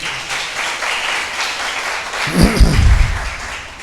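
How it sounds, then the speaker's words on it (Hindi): Steady crowd applause runs throughout, swelling louder toward the end with a burst of closer, heavier claps. "बजाओ बजाओ, ताली बजाओ।"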